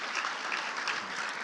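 A church congregation applauds, dense steady clapping from many hands that holds at an even, fairly loud level throughout the short burst.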